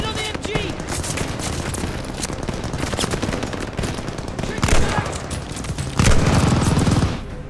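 Call of Duty Vanguard battlefield: sustained automatic machine gun fire mixed with dense gunshots and explosions, loud and continuous throughout, with shouted voices faintly present under the din.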